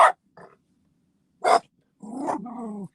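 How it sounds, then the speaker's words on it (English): A dog gives a couple of quick sharp barks, then a louder bark, followed by a drawn-out growling whine, close by. "He's heard one of the dogs outside bark."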